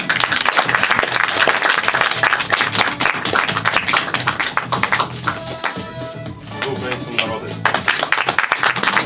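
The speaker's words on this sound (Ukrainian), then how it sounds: "Просимо підтримати оплесками." Applause from the audience at a medal ceremony for the defence of Mykolaiv, steady dense clapping through most of the stretch, mixed with a public-address voice and some tonal music midway.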